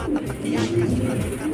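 Young racing pigeons land at their home loft after a 110 km race, giving a brief, close, soft cooing.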